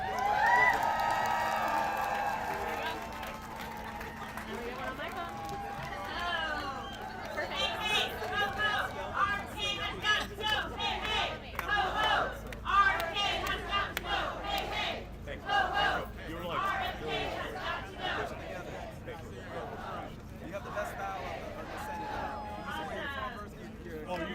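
Rally crowd applauding and cheering for CDC workers at a public health rally, a sustained wash of clapping and whoops with chatter mixed in throughout.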